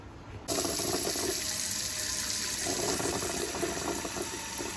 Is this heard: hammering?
no